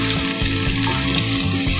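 Chopped tomatoes frying in a hot pan for chicken and pork adobo, a loud, steady close sizzle with faint stirring scrapes underneath.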